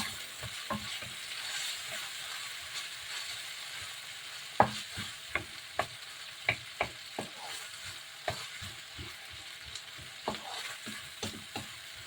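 Pinakbet vegetables sautéing in a pan, a soft steady sizzle with a run of crisp rhythmic spatula taps and scrapes against the pan, close and clear with no voices.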